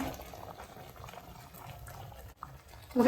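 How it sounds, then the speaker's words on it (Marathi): Lemon sauce simmers down to a syrup in a pan, giving a soft, steady bubbling that stays faint and close, with a brief dip before a louder burst near the end. "ह्याचा एक तरी पाक होईल इतपत आपल्याला हे उकळून घ्यायचं आहे"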